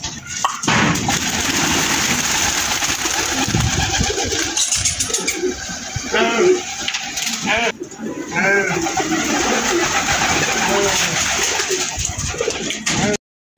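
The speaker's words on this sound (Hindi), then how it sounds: "शबीर भाई ने इधर से भी कबूतर खोलना शुरू कर दिए" Pigeons being fed grain and released for flying coo repeatedly nearby amid busy background noise, with people talking and a few wing flaps and pops.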